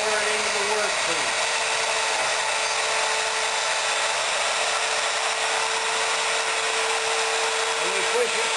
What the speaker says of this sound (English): in the case of a fixed base router like this, I turn it on, and I lower it into the workpiece